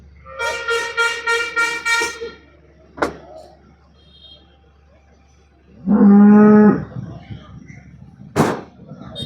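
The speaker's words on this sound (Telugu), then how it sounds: "హెచ్ఎఫ్ ఆవులు ఉన్నాయి." Holstein Friesian cows at a livestock market, with one cow giving a series of rhythmic, loud moos and another cow letting out a sustained low bellow later, amid background talk and a short honk.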